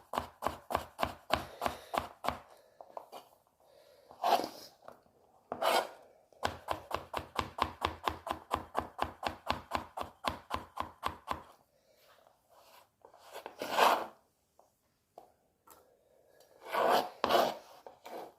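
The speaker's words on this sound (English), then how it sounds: "Now you do want these gherkins to be pretty much seen, so you're not going to cut them up too finely." A knife chopping gherkins on a board in fast, steady runs of close, crisp taps, broken by pauses and a few scraping sweeps across the board.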